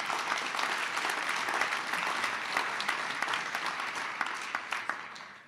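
Warm, steady applause fills a hall at a benefit foundation concert for a music school, a full audience clapping continuously before the sound thins out toward the end.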